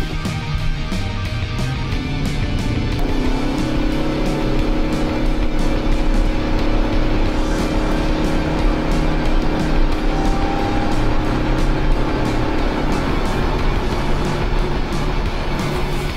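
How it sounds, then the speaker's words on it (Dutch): Mitsubishi Outlander PHEV accelerating hard up to 100 km/h, a loud, steady engine and road drone with a rising tone that holds without a break, no talk over it. "en dan de acceleratieproef naar 100"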